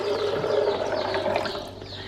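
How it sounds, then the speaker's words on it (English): Four cups of water pour from a container onto raw almonds in a Vitamix blender jar, a close, steady gurgling splash lasting a couple of seconds and tapering slightly at the end. "I dumped my almonds in, and then I'm just gonna put in 4 cups of water."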